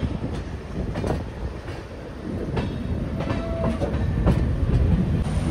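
A double-decker express train departs KSR Bengaluru station, rolling along with steady rumbling and clickety-clack of wheels over rail joints, close and loud, with occasional metallic squeals.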